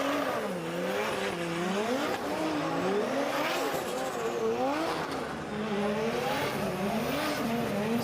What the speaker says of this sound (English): So Karim Hani warms the tyres on that 2JZ powered BMW 46.